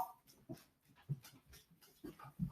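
Several dogs whimper, whine and pant in short bursts close by, with brief yips scattered across a couple of seconds and no talking over them.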